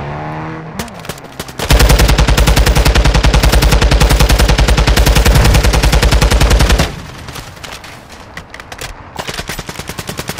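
Rapid automatic gunfire rattles loud and close in a video game drive-by. A dense, continuous burst of several seconds is followed by more scattered shots and clatter.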